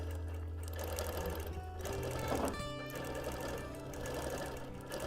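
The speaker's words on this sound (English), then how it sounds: "I'm just anchoring a few tight stitches over that earlier line of stitching" A sewing machine runs steadily, stitching and anchoring tight overlapping stitches on a quilt, with a continuous close motor whir and rapid needle chatter throughout and no talking.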